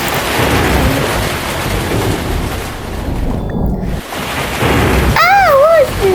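Heavy rain and rumbling thunder fill a storm scene in the Toca Life World game, loud and continuous, with a brief dip midway before pitched voice-like sounds rise over the downpour near the end.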